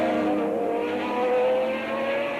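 A Jaguar endurance race car at speed at Brands Hatch during the 1987 1000km sports car race, its engine holding a loud, steady high drone with slight pitch swells as it keeps flat out, no voices over it.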